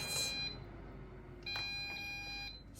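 Two clear electronic beeps from an air fryer cooking frozen smiley fries, one at the start and a longer tone about a second and a half later, fairly close and alone.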